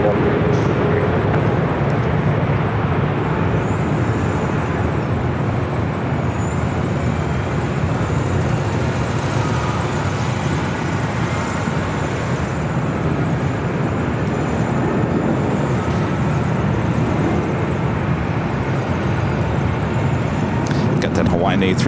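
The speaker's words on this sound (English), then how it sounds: "That Hawaiian A380 with Neo heading to Lahui, now rolling down at 24 left." A Hawaiian Airlines Airbus A380 rolling down runway 24 left at LAX, a broad, steady roar of jet engines and rumble held for the whole stretch, with a voice talking over it.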